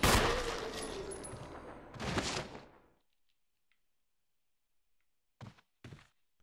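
Gunfire in the Resident Evil HD video game, a loud burst of shots with a reverberant tail, then near silence broken by a couple of dull thuds.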